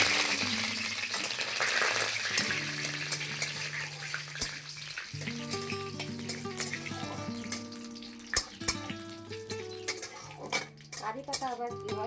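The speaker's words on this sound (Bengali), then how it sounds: "এরপরে কারি পাতা দেবো" Curry leaves drop into hot oil already holding cardamom and cinnamon, giving a soft sizzle under clinks of a spoon against the pan and scattered metallic taps.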